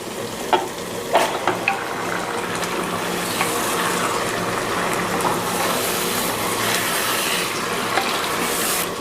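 Two kilograms of meat sizzle and fry as they go into a hot pan with spices, a steady loud crackle with a few sharp clinks and stirring knocks near the start.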